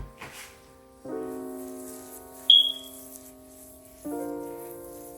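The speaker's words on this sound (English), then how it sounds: "Please don't come in my comment section talking about my smoke detector." A smoke detector gives a single short, high-pitched chirp indoors, brief and fairly clear above soft sustained tonal background sounds.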